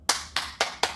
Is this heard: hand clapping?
yes